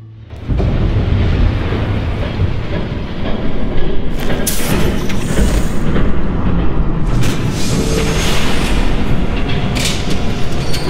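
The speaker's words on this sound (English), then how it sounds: "There's a train coming." A train rumbles past in the Batman Telltale Series video game, a loud, continuous roar with rattling wheel noise that swells and holds steady for about ten seconds, with no talking over it.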